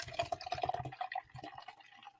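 Sweet blue raspberry MD 20/20 pours from a can into a cup, glugging in quick bubbly pulses at first, then settling into a softer trickle and fizz close up.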